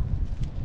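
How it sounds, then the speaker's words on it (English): Wind buffets the microphone outdoors near Belém Tower in Lisbon, a brief low rumbling roar that fills the whole moment. "it's a little windy today."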